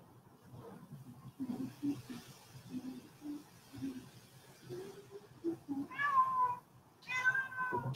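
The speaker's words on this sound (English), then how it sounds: "You be quiet down there. It's my cat." A house cat meows a couple of times near the end, clear harmonic cries following quieter rumbling room noise and faint background sounds.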